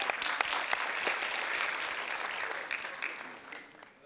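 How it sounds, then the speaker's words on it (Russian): A crowd of audience members applauds at a KVN comedy competition, a dense, steady wash of clapping that gradually fades toward the end, heard without talk. "Под ваши аплодисменты, друзья."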